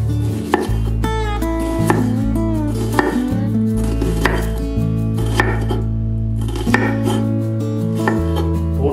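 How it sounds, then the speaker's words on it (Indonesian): A knife thinly slices shallots on a cutting board, with steady rhythmic chopping taps repeating at a quick even pace, close and clear with no talk. "dan bawang merahnya kita iris,"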